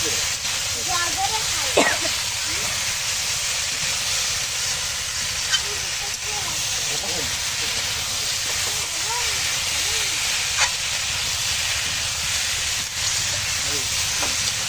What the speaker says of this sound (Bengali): এই যে এখন আমি এই জল দিয়ে দিচ্ছি, গরম জল।